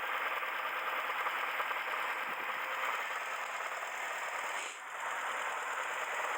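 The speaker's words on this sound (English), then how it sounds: "just listen to that engine purr" A Hillman Imp car engine hums steadily without pause, close and even, with a slight dip partway through.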